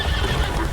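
A horse in The Witcher 3 gives a short, loud, close whinny over soft hoof clops.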